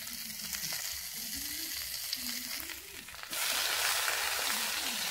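Spinach greens go into a pan with onion and fry with a steady hiss that suddenly grows louder and brighter partway through, while a voice talks faintly underneath.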